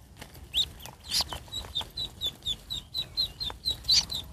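A live duck used as fishing bait while snakehead fishing calls repeatedly, a steady run of close, loud quacks and clucks about every third of a second over faint background noise.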